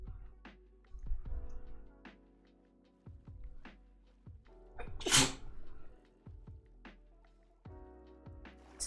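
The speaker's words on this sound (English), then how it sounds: "that was a sneeze" A single loud, sudden sneeze in a quiet room, a sharp burst standing out against faint clicks and soft background sounds, with no talk around it.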